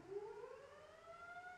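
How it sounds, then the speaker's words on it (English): A small siren effect on a museum's mechanical organ winds upward in a single smooth rising wail, clear and alone, sustained for well over a second. "little siren,"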